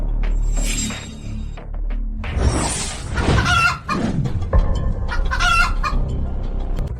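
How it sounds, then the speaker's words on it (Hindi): A chicken clucks and squawks loudly and close by, in bursts with rustling and flapping noises between them and no voices. "मुर्गी उसकी गोद में कैसे आ गई?"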